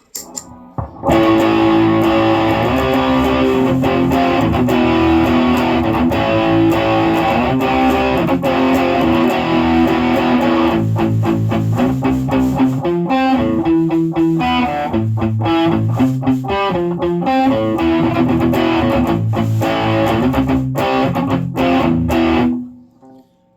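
Electric guitar through a cheap $14 distortion pedal plays loud and sustained, gritty chords and riffs with a fuzzy, saturated tone, ringing out alone before cutting off abruptly.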